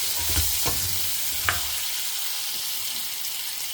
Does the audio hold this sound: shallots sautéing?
yes